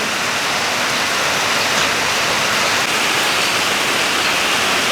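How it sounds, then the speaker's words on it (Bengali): Heavy rain drums steadily on a tin roof, a dense, loud, unbroken roar of countless impacts that stays even from start to finish, close by and with no voices. "এখন আবার বৃষ্টি শুরু হয়েছে টিনের ঝমঝমানি আওয়াজ মানে শব্দ অনেক ভালো লাগতেছে"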